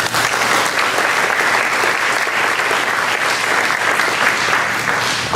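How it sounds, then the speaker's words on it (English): Steady applause from a school board audience honoring student singers at a student recognition event, dense and continuous clapping that holds at an even loudness throughout without dying down. "You give them a round of applause for that."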